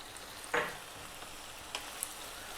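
Ground coriander, chili, cumin and turmeric dropped into a hot pan for a lamb lentil curry, giving a soft broadband sizzle with a brief louder burst and a couple of small stirring clicks, fairly quiet throughout.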